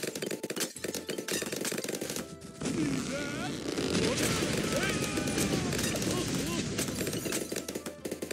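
Rapid semi-automatic rifle fire from a tower in Bloons TD6, a dense stream of sharp cracks layered over busy game sounds and effects, loud and continuous throughout.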